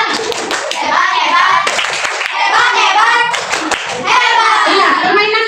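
Classroom children clapping for a classmate, loud close hand claps in quick bursts with brief pauses, mixed with young voices chattering.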